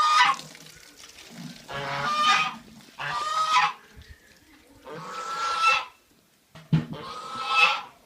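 Several geese on a family farm honk in loud, repeated bursts of harsh calls, with short gaps between the outbursts.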